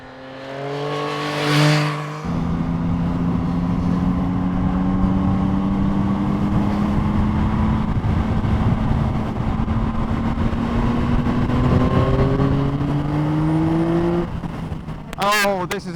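A 2021 Yamaha MT-09 SP motorcycle engine pulls hard through the gears, rising revs with a gear change early on, then a long steady climb in pitch, close and loud, easing off near the end.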